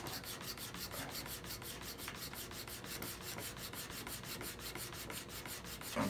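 A gouged chisel being sharpened on an MPower FastTrack Mk2, a steady close abrasive rubbing in quick regular strokes that continues throughout without pause.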